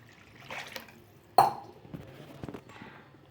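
Water is poured into a pan of tamarind fish curry, heard as one short splash amid faint kitchen clatter.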